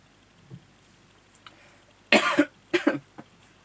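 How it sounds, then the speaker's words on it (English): A couple of short, harsh coughs close up, a brief pause between them, set against quiet room background. "I still have to cough sometimes"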